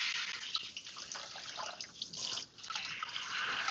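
Running water rinses a wig, a steady close hiss of spraying and splashing water with slight shifts as the hair moves under the stream; no talking.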